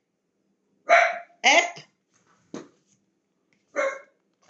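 Dog barking indoors, four sharp close barks spaced irregularly with short silent gaps, one of them quieter, and a person briefly speaks.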